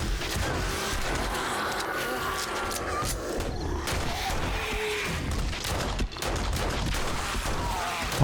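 Rapid gunfire in 7 Days to Die as zombies of a day-seven horde are shot at a wooden frame base, dense bursts of shots with crashes and impacts continuing throughout at moderate level.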